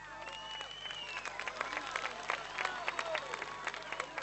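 An audience applauds a singer at a Romanian Language Day concert, with steady crowd clapping throughout, fairly distant, while a voice talks over it.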